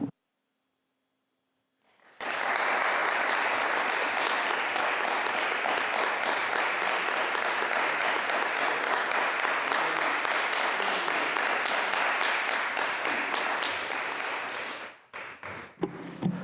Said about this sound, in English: Stop with the clapping.